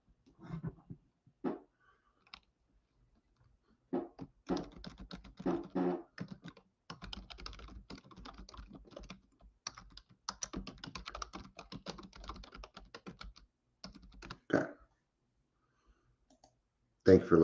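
Typing on a computer keyboard comes in close, quick bursts of clicking, dense through the middle, while a person talks intermittently before and after.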